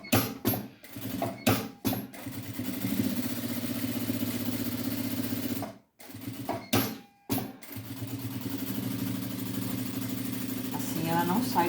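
A sewing machine stitches a handmade bag in bursts of steady motor whirring broken by short stops, close and fairly loud, with a voice talking briefly near the end.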